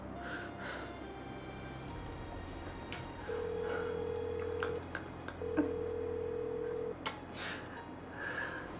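Phone call being dialed on a mobile: two long steady ringback tones sound in succession over quiet room noise, with a few faint clicks between them and no talking.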